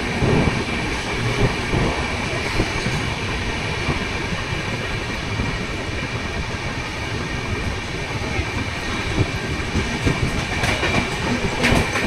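Onboard the Howrah to Asansol express, train no. 12341 Agniveena, the carriage rumbles loudly and continuously, with rhythmic wheel clatter over rail joints and a steady roar close around.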